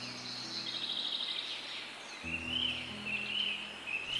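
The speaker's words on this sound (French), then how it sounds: "Maintenant, concentre-toi sur le chant des oiseaux." Several birds sing in high, thin phrases that repeat over a low, faint background drone, quiet and alone with no talking.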